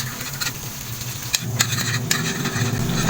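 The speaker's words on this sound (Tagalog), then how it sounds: "maglagay ng konting mantika sa kawali, painitin, maglagay na ng margarine" Margarine sizzling in hot cooking oil in a pan for garlic shrimp, a steady close crackle and hiss that swells partway through, with a few light clinks over it.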